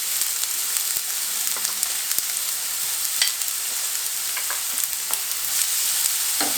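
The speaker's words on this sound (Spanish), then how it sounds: "aquí agregamos la cebolla que ya teníamos partida. Vamos a saltearla un poco. Agregamos también el ajo picado." Chopped onion and minced garlic sizzle in hot olive oil for a Cuban ropa vieja. The frying crackles steadily, with sharp pops and a few stirring scrapes up close, and no talk.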